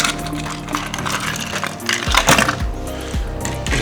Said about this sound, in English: a little bit more ice in the top there